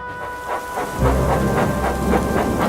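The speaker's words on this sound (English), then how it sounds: "The rain fell heavily." Heavy rain pours steadily, loud and close, with a deep rumbling swell of thunder rolling in underneath.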